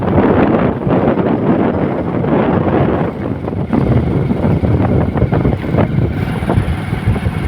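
Cool wind blows outdoors, buffeting the microphone with a loud, continuous rumbling rush that barely lets up.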